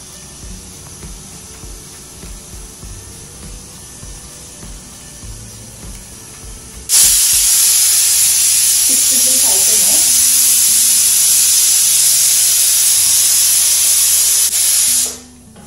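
A pressure cooker abruptly begins venting steam at full force partway through, a loud, steady roaring hiss that holds for about eight seconds before cutting off, with quieter kitchen sounds before it.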